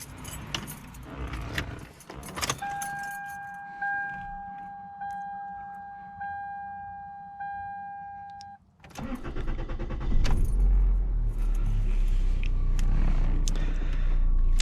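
Keys jangle in a 2000 Toyota Corolla CE, a chime beeps repeatedly for several seconds, then the engine cranks and turns over, settling into a steady idle nearby.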